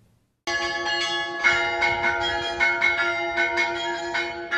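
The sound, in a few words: church bells ringing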